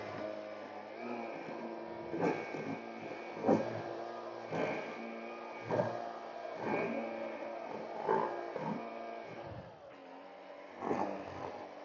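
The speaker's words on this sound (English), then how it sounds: "so I just trim it" A gas string trimmer cuts grass in a tight yard space too narrow for a mower. The motor whines steadily, surging and dipping in pitch every second or two, at moderate distance and with no talk.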